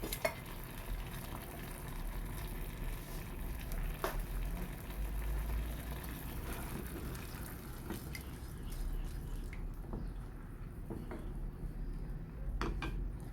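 A teriyaki sauce mixture thinned with a little water bubbles in a pan, giving a steady, close, crackling hiss with scattered small pops and drips that runs throughout without a break.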